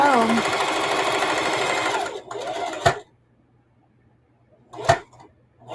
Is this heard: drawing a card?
no